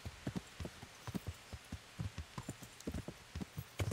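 Horse hooves clip-clopping at a steady trotting rhythm while riding in Kingdom Come: Deliverance, evenly spaced hoof strikes, fairly quiet and close, with no other prominent sounds.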